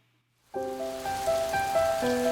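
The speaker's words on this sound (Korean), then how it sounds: "하나님의 말씀대로 비가 내리기 시작했어요" A rain sound effect sets in abruptly as a steady hiss of rainfall on a surface. Sustained musical tones run under it, and nobody speaks.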